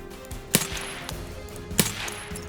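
Two sharp gunshots from the video game Escape from Tarkov, separated by about a second, over faint in-game background noise.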